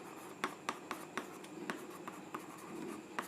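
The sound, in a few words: pen writing on paper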